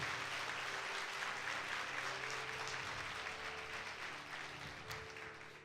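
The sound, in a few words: congregation applause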